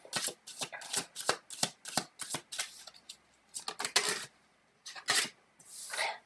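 Tarot cards being shuffled by hand in quick bursts of crisp riffling and sliding, close and clear, with short pauses between handfuls.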